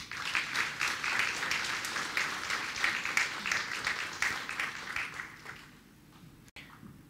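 An audience at an award ceremony for the Janusz Kurtyka prizes breaks into sustained applause, a dense, lively clatter of many hands that holds for about five seconds and then fades away, leaving quiet room tone.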